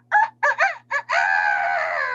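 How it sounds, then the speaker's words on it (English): A rooster's crow, loud and near: three short choppy calls followed by a long sustained wavering note, nothing else around it. "Every morning at 3:30, Rusty the rooster would go"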